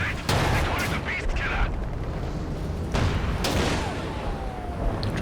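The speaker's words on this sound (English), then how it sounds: "Dropping light artillery barrage" Light artillery barrage in Company of Heroes 2 on the La Gleize map: a run of sharp booming impacts and crackling blasts, loud and close, arriving in uneven bursts over a rumbling battlefield bed.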